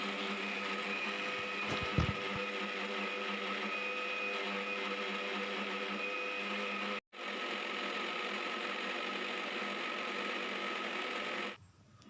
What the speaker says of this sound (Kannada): ಈಗ ಮಸಾಲಾನ ರುಬ್ ರುಬ್ತಾ ಇದ್ದೀನಿ ಮೊದಲು ಕಾಯಿಯನ್ನು ರುಬ್ಬಿ ಹಾಕ್ಕೊಳ್ತೀನಿ